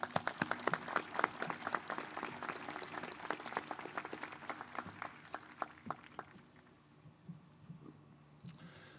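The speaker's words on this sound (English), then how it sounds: "Please join me in acknowledging the faculty's achievements with a round of applause." An audience at a university commencement ceremony applauds, with a dense burst of many hands clapping that thins out and fades over several seconds.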